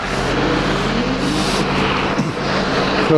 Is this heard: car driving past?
yes